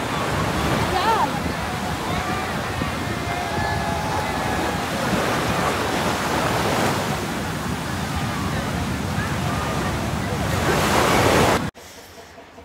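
Ocean waves roar at the beach in Puri, a loud, continuous wash of surf with wind noise that cuts off sharply near the end, and voices are heard faintly in the background.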